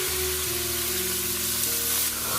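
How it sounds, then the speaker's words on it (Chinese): Pork ribs stir-fried with caramelised sugar colour in a pan, giving a loud, continuous, close sizzle and hiss as they are turned, with no talking. "继续翻炒，给它上色"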